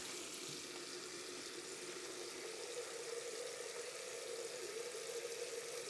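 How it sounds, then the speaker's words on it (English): Water runs steadily from a tap to rinse something, a constant close rushing flow lasting the whole stretch with no voices. "First, just rinse it with water, see what comes out."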